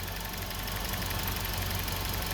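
A Hyundai Getz engine idling steadily during an engine flush, a constant low rumble with a slight rhythmic knock, close by and unbroken.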